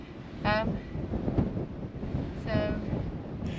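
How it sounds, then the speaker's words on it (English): Gusty wind buffets the microphone with a constant low rumble, swelling in waves, while faint whistling tones rise twice in the background. "The microphone's picking it up, but it is a bit windy"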